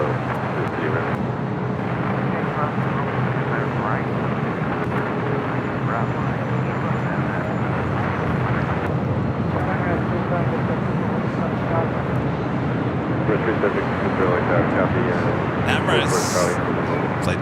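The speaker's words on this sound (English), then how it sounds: "Emirates, flight 216, heading back to Dubai. The A380 Super ready to cross over the 2 south runways." An Emirates Airbus A380 taxis at LAX airport, giving a continuous broad jet engine rumble and roar that holds steady throughout, with wind noise and a voice talking over it.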